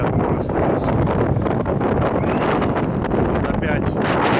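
Strong wind gusts buffet the microphone on a street in Alanya, a loud, continuous roaring rumble with sharper bursts over a few seconds.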